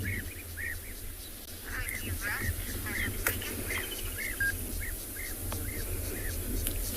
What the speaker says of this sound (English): Just have a listen to all of the bird sounds around us at the moment.